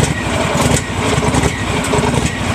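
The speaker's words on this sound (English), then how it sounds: "Once you get the engine started, you let it warm up." The small fire pump engine on a wildland brush rig runs at a steady idle, a close, loud, continuous mechanical rumble and rattle with no break and no talking.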